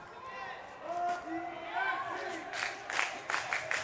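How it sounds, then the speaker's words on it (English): Ottawa TFC supporters cheer and shout encouragement at a U15 boys soccer final, a mid-distance crowd murmur with scattered voices rising near the end. "The Ottawa fans in attendance trying to cheer and urge their squad on"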